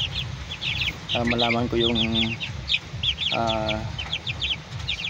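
A black male chick peeps rapidly and repeatedly in high chirps, close by, mixed with a few deeper hen-like calls, while a person talks over the sound.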